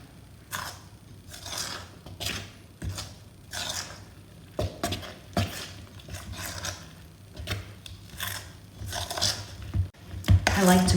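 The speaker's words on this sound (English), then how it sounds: "Give that a good stir." A spoon works thick bread dough in a bowl as flour is mixed in, giving repeated close scraping and knocking strokes in an irregular rhythm over a quiet room with faint background noise.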